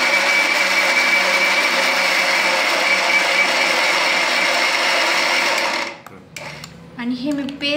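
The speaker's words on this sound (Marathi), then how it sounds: "आणि हे मी आता मस्तपैकी मिक्सरमधून ग्राइंड करून घेणार." An electric mixer grinder whirs loudly and steadily while blending a banana, honey and olive oil hair pack, then cuts off abruptly near the end, followed by a few faint clinks and a short voice.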